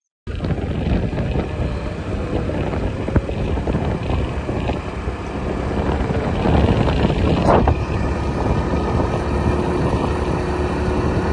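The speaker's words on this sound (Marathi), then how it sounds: "बाहेर खूप वारा वावधून चालू आहे" Strong wind outdoors buffets the microphone while two people ride on a bike, making a loud, steady roaring rumble that never lets up, with a brief sharper gust near the end.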